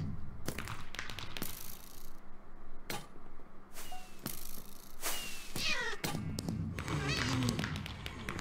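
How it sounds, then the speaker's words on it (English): Several short cat meows in Minecraft sound between taps and thumps, with a brief burst of louder activity, like fireworks, near the end. "as much as I'm meowing and shooting fireworks"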